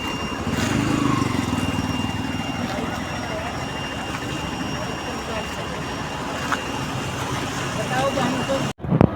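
Road traffic streams along the road below a flyover closed for roadworks at Marthandam, a dense continuous rumble of passing vehicles with a few faint horn-like tones, loud and close throughout.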